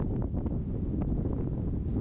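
Gusty wind on the sea coast at Tenerife in the Canary Islands buffets the microphone, a continuous low rumbling roar with no talking.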